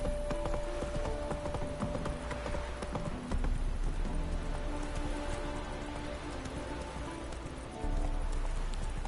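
Roach, Geralt's horse in the video game The Witcher 3: Wild Hunt, gallops with steady rhythmic hoofbeats under a dense layer of game music and ambience, with a faint patter like rain in the background.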